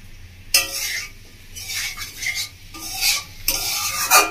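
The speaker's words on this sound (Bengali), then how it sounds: "1 মিনিট মতো হয়ে গেছে নাড়াচাড়া করা" A spoon or spatula scrapes and stirs food around a cooking pan in several bursts, loud and close, with brief pauses between the strokes and no talking.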